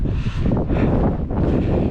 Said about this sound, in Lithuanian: Biški vėjas šaltas pučina